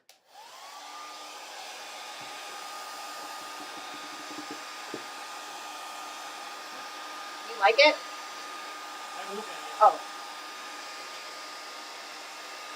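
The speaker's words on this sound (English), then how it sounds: "So let's hit it with the hairdryer." A hair dryer blows in a steady, loud, continuous roar while a drum is being built, with brief soft clatter and a couple of short voices and knocks partway through.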